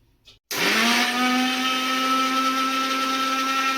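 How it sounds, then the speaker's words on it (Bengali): A kitchen mixer grinder whirs on abruptly and runs at a loud, steady high-pitched drone, blending cupcake batter of powdered milk, ghee and refined oil, close and continuous with no talk. "এটা মিক্সিতে ঘুরিয়ে নেব।"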